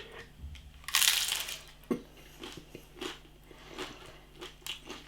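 A loud, crisp crunch as teeth bite into the crunchy crust lid of a Fray Bentos chicken pie, followed by several softer, scattered crunches of chewing up close.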